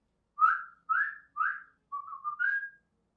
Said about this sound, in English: suppose we say they use notes, different notes, like I can whistle maybe